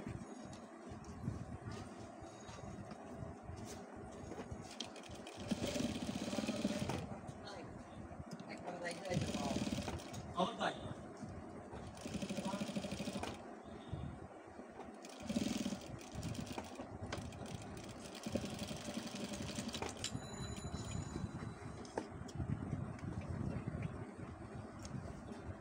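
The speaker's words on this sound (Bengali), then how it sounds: "এখন চাপ সেলাইটা দিয়ে নিব।" A sewing machine stitches a pocket flap in short bursts of rapid mechanical whirring, stopping and starting repeatedly, while a person talks quietly throughout.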